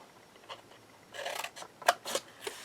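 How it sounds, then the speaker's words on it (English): Scissors cut through a chipboard spine in a few short, crisp snips and rasping strokes, close and fairly quiet, with no talking. "I'm cutting this all the way to the edge of the black inside the notched area on my spine, on my chipboard spine"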